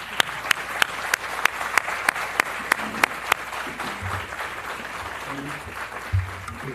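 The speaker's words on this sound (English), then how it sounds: "Let's give a round of applause to our speakers and moderator" An audience at a Spiritist symposium claps for the speakers and moderator: a thin, steady run of evenly spaced claps, moderately near, fading after a few seconds into faint room murmur.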